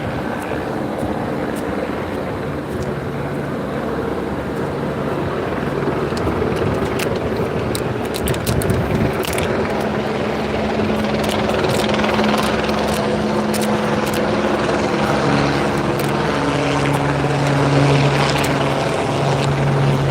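A police helicopter flies overhead above a protest in Los Angeles, its rotor drone loud and steady for the whole stretch, with scattered crowd noise and faint voices underneath.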